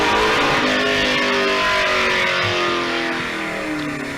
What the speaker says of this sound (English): This is 7-litre Ford Falcon.